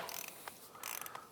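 A torque wrench tightens an oil filter on a Kawasaki Ninja 650R motorcycle, giving a brief quiet mechanical ratcheting and clicking, close and faint.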